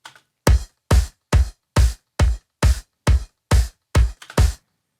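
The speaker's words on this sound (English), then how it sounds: "by itself the kick sounds like this" A kick drum sub track played solo gives eleven deep, booming thumps in an even pulse, each ending in a short silence. The hits are loud and dry, with nothing else playing.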